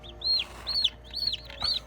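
Several newly hatched baby chicks in an incubator give high, rising-and-falling peeps, four distinct calls in a loose rhythm, close and fairly clear over a low steady hum.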